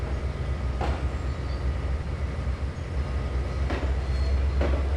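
A long freight consist in a train simulator game rolls steadily along the line, a constant low rumble and hiss with a few faint clanks spaced a few seconds apart, no voices.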